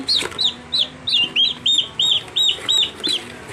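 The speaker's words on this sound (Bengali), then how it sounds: "বাচ্চাগুলা লাল লাল টার্গির বাচ্চা" Turkey chicks give a steady series of high, thin peeping calls, about two per second, loud and close, with faint rustling behind them.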